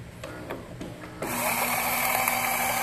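A Saeco Lirika coffee machine's grinder starts up and runs with a steady, loud whirring drone that holds continuously from the press of a button onward, after a few faint clicks and knocks.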